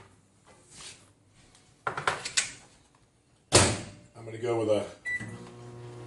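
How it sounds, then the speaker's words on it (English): Speech at the start, then a microwave oven door clunks shut, a button beeps, and a steady low hum runs to the end with a voice over it. "I'm going to put these in the microwave."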